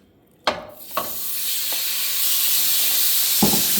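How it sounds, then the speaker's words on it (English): Steak bites drop into a hot oiled pan with a few sharp sizzling bursts, then settle into a loud, steady frying hiss with occasional crackles, no voices. "We're going to go ahead and add in our meat."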